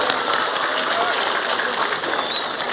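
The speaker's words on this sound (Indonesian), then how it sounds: "Tepuk tangan untuk Indramayu" Crowd applause for Indramayu at a gathering, a steady dense clapping wash held at even loudness throughout, with voices mixed in underneath.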